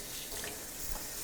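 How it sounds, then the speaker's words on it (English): A small amount of water is poured from a tap into a clean plastic bag in a home kitchen before cutlets are pounded. A steady, soft running-water rush fills the short moment on its own, with no talk. "I have a clean bag here, which I'm going to toss just a little bit of water in"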